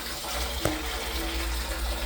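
Honey mash is pumped through a paint strainer bag into a copper pot still, making a steady, soft rushing and gurgling flow of liquid throughout, with one small knock partway through.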